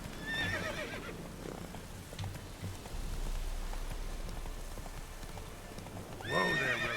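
A horse's hooves clip-clop steadily along a road in The Witcher 3 game, with soft rain ambience and a neigh at the start and end.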